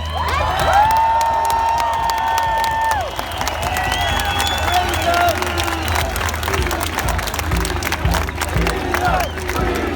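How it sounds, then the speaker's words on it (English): A large protest crowd in Trafalgar Square cheers and applauds loudly and steadily throughout, a dense wash of clapping and shouting with whistles rising above it. "I want you to give them a massive round of applause"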